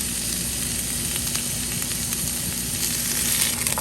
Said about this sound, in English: Once the olive oil is heated up on the stove, add your onions.